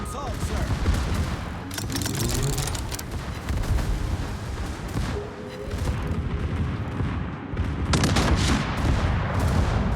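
Secondary guns of a ship firing in World of Warships, rapid repeated booms and crackling salvos over a dense rumbling battle background, with a voice talking intermittently.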